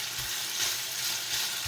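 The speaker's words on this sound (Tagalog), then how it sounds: "Kasi yun nilalagyan ng Shaoxing wine, kaya siya nag-aapoy." A very hot Chinese-style wok flaming with Shaoxing wine while kwetiaw noodles cook gives a loud, continuous sizzling roar, dense and unbroken across a brief moment.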